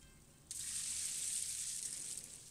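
Shower water in an anime scene starts abruptly and runs steadily as a bright, hissing spray, fairly quiet and alone with no voices.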